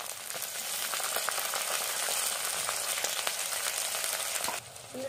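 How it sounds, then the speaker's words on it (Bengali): Onion, garlic, chili and ginger spice paste frying in a pan for homemade chicken chops gives a steady, dense sizzle with crackles throughout, alone and fairly close, easing slightly just before the end. "পেঁয়াজ, রসুন, লঙ্কা, আদা সব কিছু ভালো করে ভেজে নেব"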